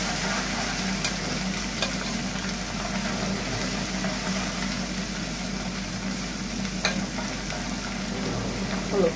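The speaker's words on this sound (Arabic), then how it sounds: "هحط حته من الثوم معايا كده وهي بتتحمر" Fish frying in a pan with garlic, a steady close sizzle holding level throughout with faint kitchen clatter and no talk.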